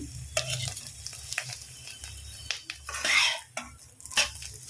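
Eggs frying with salt in a pan, a steady sizzle broken by scraping and clinks of a spatula against the metal as they are stirred and turned, several louder scrapes near the end.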